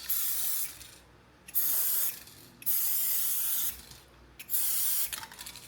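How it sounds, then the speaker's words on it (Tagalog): Plastic protectant sprays over an RC car after steam cleaning, four close, loud hissing bursts of about a second each separated by short pauses. "what I like to do is spray it all over the car"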